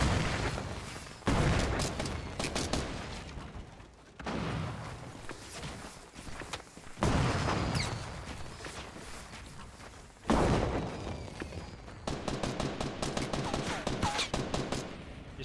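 Gunfire from the video game Fortnite: repeated bursts of rapid shots and fusillades in several loud clusters, with brief lulls between and a few heavier booms, no speech over it.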